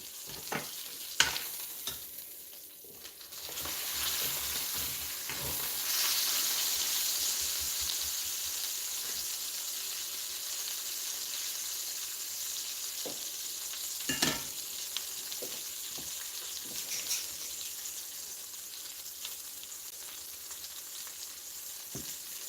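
Wagyu tri tip steak fries in a pan with a steady sizzle and crackle, punctuated by brief louder pops and spatters, close and moderately quiet.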